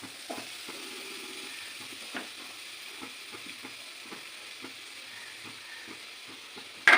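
Vegetables, shrimp and meat stir-frying together in a pan for mixed fried rice, a soft steady sizzle with occasional scraping stirs, faint and close, with a louder clatter at the very end.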